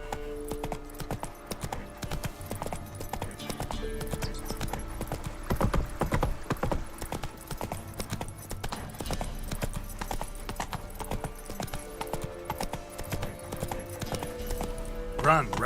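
Geralt's horse Roach gallops in The Witcher 3, with a fast, continuous clip-clop of hooves over game ambience and occasional spoken lines, fairly steady in loudness throughout.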